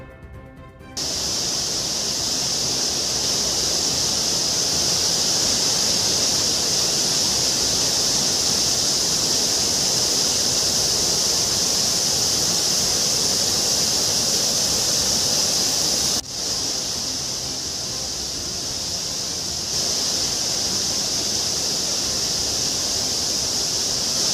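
Suruli waterfall in flood after heavy rain roars as a loud, steady, broadband rush of falling water, continuous and unbroken for the whole stretch.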